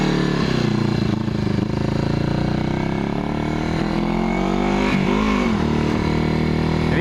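A 1981 Yamaha XS400 Heritage motorcycle, long left sitting and running on aging fuel through its carburetor, drones steadily and loudly on a test ride, its engine note rising and falling slightly with throttle and wind rushing over it.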